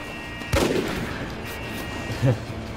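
Gunshots from the Rogue Warrior video game come as a loud burst near the start and a shorter, sharper shot near the end, with steady game background in between.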